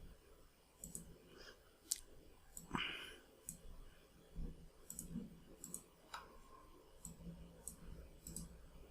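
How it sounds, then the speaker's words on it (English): Computer mouse clicks while splitting footage in Filmora 9 video editing software: scattered, faint, sharp clicks over a low hum, with no speech. "I'll just remove the unwanted portion here by clicking on split"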